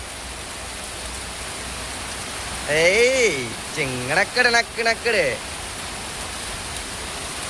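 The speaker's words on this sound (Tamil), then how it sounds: "பொழக்குதுங்க எங்கள் ஊரில் மழை." Heavy rain pours down steadily in a Tamil village, a continuous dense hiss that runs throughout while someone briefly shouts and talks over it midway.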